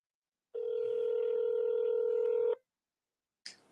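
A phone line gives a steady dial tone for about two seconds, loud and close, with a short blip after a pause and no talk.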